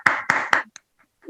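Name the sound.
audience clapping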